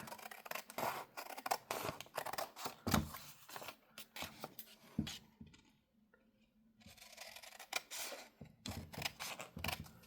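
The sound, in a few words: scissors cutting paper for junk journal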